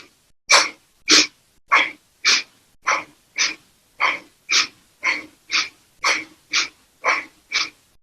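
Bhastrika bellows breathing: fourteen forceful, evenly paced yogic exhalations, each a sharp, close, breathy burst separated by brief pauses.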